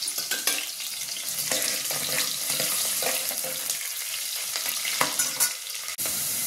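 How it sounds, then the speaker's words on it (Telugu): Onions sizzle and fry in a pan while a dal soup is being cooked, a steady hiss broken by scraping stirs and a few sharp clinks of a utensil against the pan. "వేగిపోతున్నాయండి ఉల్లిపాయలు."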